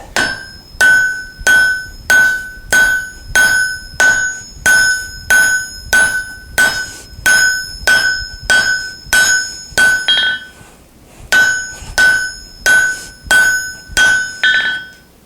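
Hammer blows on bright-hot steel drawing out a long taper on an axe and hammer-head drift, a loud ringing strike about twice a second with a short pause partway, close and alone.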